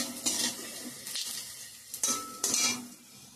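Panch phoron spices crackle and sizzle in hot oil with onion, garlic, dried chilli and bay leaf. A spoon scrapes and stirs against the pan in several quick strokes, close and clear.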